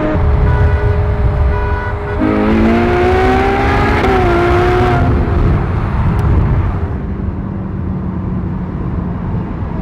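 A Ferrari 488 Pista and an 812 Superfast drag race, a loud continuous engine roar with rising revs and pitch shifts as gears change, then a sustained fading drone.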